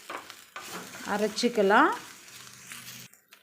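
Grated coconut, chana dal and curry leaves are stirred while dry roasting in a pan, making a soft frying crackle and scraping. A voice speaks over the sound.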